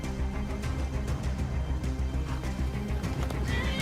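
A horse neighing and whinnying in modded Skyrim, a loud whinny over clip-clopping hooves and dense game background sound throughout.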